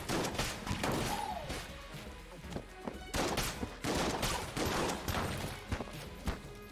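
Shotgun blasts in the game Enter the Gungeon, a rapid string of heavy thumping shots and crashes layered with busy game effects, loud and continuous throughout.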